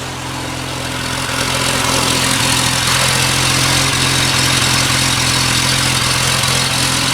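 A car engine idles steadily through the exhaust, a constant low rumble with broadband hiss, close and fairly loud, no voices.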